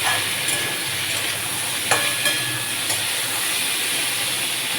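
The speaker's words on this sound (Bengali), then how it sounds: "এই ভাজাটা অনেকক্ষণ লাগে একটু ভাজতে।" Carrot and pumpkin pieces seasoned with turmeric, green chilli and salt fry in a pan with a steady, close sizzle, broken by a few brief clicks and scrapes of stirring.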